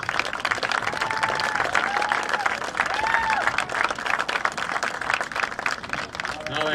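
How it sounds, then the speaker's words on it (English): Sustained, full applause for the Knights, the Section 8A boys lacrosse runner-up team, at a championship ceremony, with crowd voices and brief whistle-like tones mixed into the steady clapping. "Once again, let's have a nice round of applause for the Knights."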